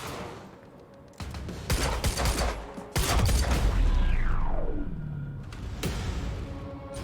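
Gunfire in the Quantum Break video game, with rapid bursts of shots and heavy booms that recur over several seconds, plus a descending whooshing tone and sustained loud rumble.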